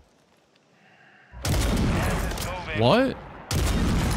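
A sniper rifle fires in the video game Warzone with sharp, loud blasts, one burst at about a second and a half and another near the end, over a game soundtrack, while a man reacts with a brief spoken exclamation.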